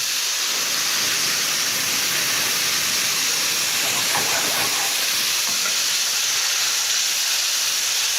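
White wine poured into a hot pan with toasted paprika hisses and sizzles in a loud, steady, bubbling burst of steam that fills the whole stretch, close up and with no talking.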